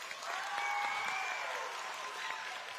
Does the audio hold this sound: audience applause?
yes